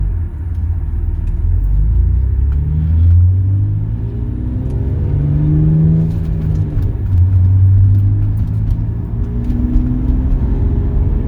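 A Saab 9-3's engine drones in a low rumble while the car is driven, rising and falling in pitch as it accelerates and shifts, loud and steady throughout.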